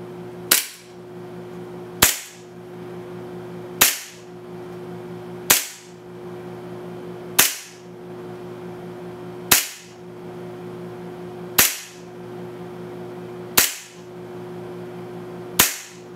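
A Tokyo Marui Hi-Capa 5.1 Rebel Edition airsoft pistol fires 0.2 gram BBs: nine sharp, loud shots spaced evenly about two seconds apart, each with a brief ringing tail, over a quiet background.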